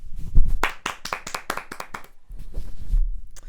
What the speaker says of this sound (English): I'm fine with giving Anthony Gordon some applause.